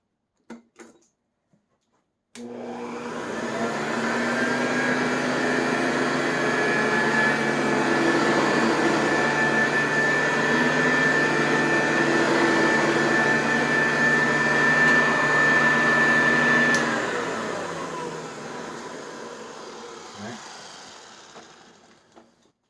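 A Hoover WindTunnel 2 upright vacuum cleaner on its normal setting switches on with a jump, holds a steady close roar with a faint high whine for about fourteen seconds, then winds down and stops.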